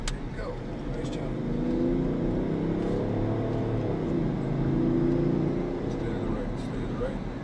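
A BMW accelerates at full power on a driving course, its engine a steady loud drone rising and falling in pitch through the whole stretch, with an instructor's voice talking over it.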